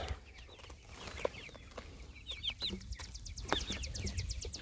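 Four-week-old broiler chickens clucking and cheeping nearby on pasture, with repeated short calls over a soft background hum and occasional scratching sounds.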